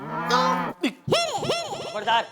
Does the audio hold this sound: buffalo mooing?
yes